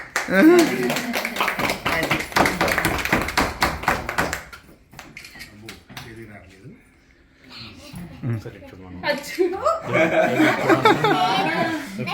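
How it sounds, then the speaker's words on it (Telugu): A small group claps in a quick run of close, sharp claps at a birthday celebration, then laughter and chatter follow with scattered claps returning near the end. "అది క్లాప్స్ కొట్టాలి ఇప్పుడు"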